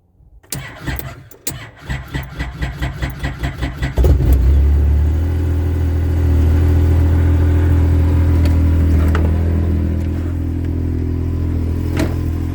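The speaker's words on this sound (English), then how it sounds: "third or fourth crank, it cranked over really nice" A car engine on a sodium-ion starter battery cranks in a quick, even rhythm for a few seconds, catches loudly on about the fourth crank, then settles into a steady close idle.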